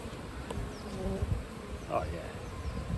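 Honey bees hum and buzz steadily around an opened beehive during a hive inspection, a dense close swarm drone with individual bees passing near.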